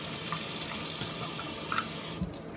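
Warm water running from a tap into a sink, a steady close hiss and splash that continues throughout at moderate level, with a few small clunks near the end.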